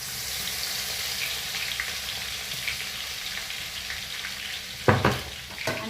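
Cumin and crushed garlic fry for chivda in a pan, hissing and sizzling steadily up close, with a couple of sharp knocks from a utensil toward the end.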